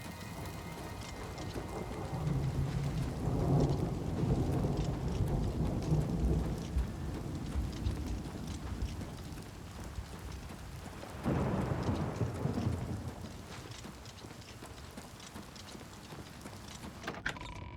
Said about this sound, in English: And the rain sounds are so perfect on here too.